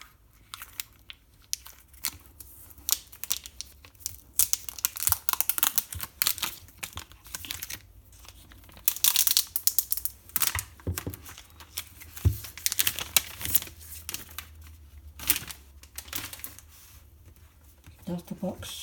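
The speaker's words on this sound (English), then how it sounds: "So I'm going to take off the plastic paper." Plastic wrap being peeled off a 256GB Space Grey iPhone 8 retail box, with irregular crinkling and crackling bursts close to the mic and short quiet pauses between pulls.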